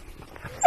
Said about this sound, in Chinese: 小汪汪听到我们的声音又要冲过来了。